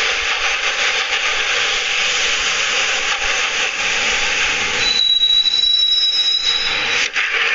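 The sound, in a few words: train riding along the rails, from the video game Max Payne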